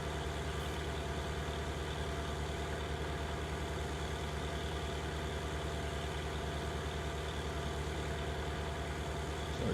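A tractor engine runs steadily in a field, a constant low idling drone with a continuous hum throughout, moderately close and with no talking.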